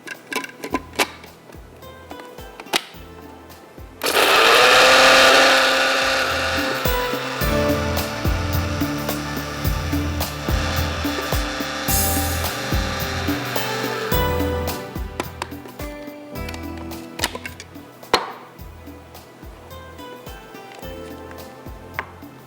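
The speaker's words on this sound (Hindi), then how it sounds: "और अब सिर्फ हमने इसको बारीक पीसना है, पीस कर इसके बॉल बनाने हैं" An electric grinder finely grinds kofta mixture, starting with a loud, sustained whirring burst that settles into a rougher churning hum before stopping, surrounded by clicks and handling noises.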